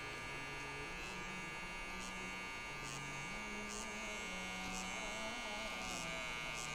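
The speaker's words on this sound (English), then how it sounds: "This is how you should be holding your clip trimmer about." Electric clip trimmer cutting hair during a self haircut: a steady close electric buzz with a constant hum, the tone shifting slightly as the blades move, under a quiet voice.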